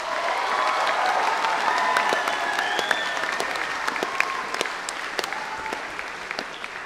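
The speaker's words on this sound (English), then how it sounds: "Can everyone give me a loud round of applause for each of the three houses tonight?" Sustained applause and cheering from a school audience at a house music performance evening, a dense steady wash of clapping with scattered whoops, filling the whole stretch without talk.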